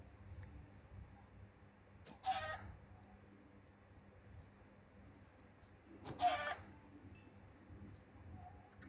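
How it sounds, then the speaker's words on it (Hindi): A baby chicken in Minecraft gives two short, quiet clucks several seconds apart over a faint low background. "ये क्या है, एक छोटा मुर्गी?"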